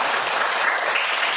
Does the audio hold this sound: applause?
yes